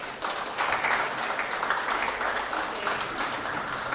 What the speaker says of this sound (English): Give her a big clap, please.